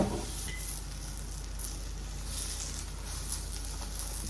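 A Korean rice crepe frying in a pan gives a continuous close sizzle and crackling hiss, steady and even throughout with no voices.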